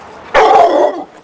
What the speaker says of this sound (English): About to exercise my pup, Brock.